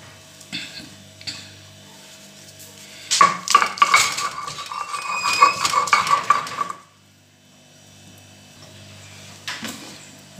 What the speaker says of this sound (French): moi j'aime faire ma sauce d'arachide en écrasant tous mes épices à la pierre